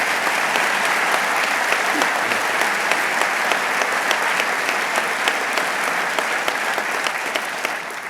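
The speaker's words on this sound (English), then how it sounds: "Let's give them a round of applause." Sustained audience applause at a governor's economic development funding announcement, a steady dense wash of clapping from a large crowd lasting several seconds at even loudness.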